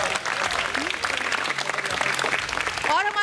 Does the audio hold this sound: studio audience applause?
yes